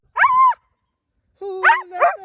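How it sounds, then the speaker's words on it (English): A dog barks during an outdoor walk, one sharp bark and then two more quick close barks after a short silence, loud and near. "Who let the dogs out?"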